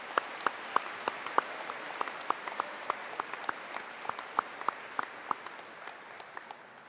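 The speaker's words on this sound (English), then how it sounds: "Let's give all of our student speakers another round of applause." A high school graduation audience applauds, scattered claps spread through the hall in a steady patter that thins slightly toward the end, heard at a distance and alone.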